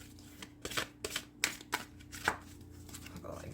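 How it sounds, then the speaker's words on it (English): Quiet, close riffling and soft slaps of a tarot deck being shuffled in several short bursts, with brief pauses between. "And so let's give it a shuffle."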